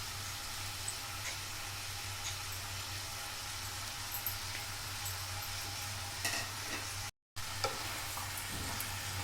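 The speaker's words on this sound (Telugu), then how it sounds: "మళ్ళీ బాగా కలపండి." Tomato pieces and chopped coriander are stirred in a frying pan, giving a steady sizzle under a low hum with scattered scraping strokes from the spoon, close and moderately loud, with no talking.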